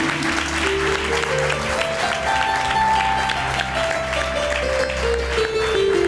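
A church congregation claps loudly during a sermon, a continuous rapid patter of many hands over sustained keyboard chords.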